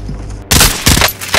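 Call of Duty: Modern Warfare gunfire, loud close bursts of rapid automatic shots cutting in sharply after a brief quieter moment, then a second burst.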